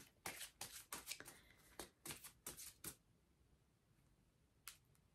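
A deck of tarot cards is shuffled up close, a quick run of crisp riffling slaps over about three seconds, then near silence broken by one last soft snap.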